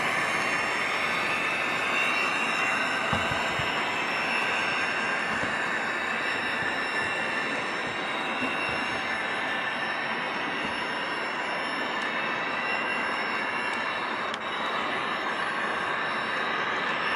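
A model train runs along its track, heading into a downhill stretch, with a steady, continuous rolling rumble and hiss throughout, close and even in level, no talking.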